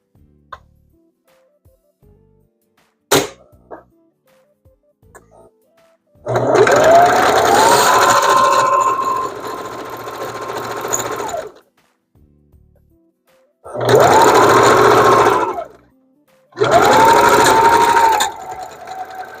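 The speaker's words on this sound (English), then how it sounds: "I am just going to sew like this far up, and then I can connect the crotch pieces of this bodysuit." A sewing machine stitches bodysuit pieces in three long runs, each revving up to a steady whirring hum and stopping, with a single sharp click before the first run and quiet pauses between.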